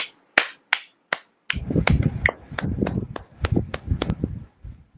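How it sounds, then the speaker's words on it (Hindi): Claps of thanks during a Saturday prayer service: a few sharp isolated claps, then a steadier run of hand claps mixed with a murmur of voices in a quiet room. "हम लोग प्रार्थना के लिए उच्च ताली के साथ हम लोग परमेश्वर को धन्यवाद देते हैं"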